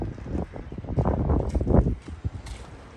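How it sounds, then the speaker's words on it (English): Strong, gusting wind buffets the microphone outdoors at a bus being repaired, a loud continuous roar with surging bursts throughout. "the wind is terrible"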